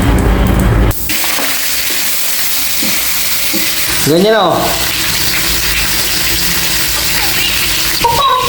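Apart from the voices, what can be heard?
pork frying in oil for binagoongan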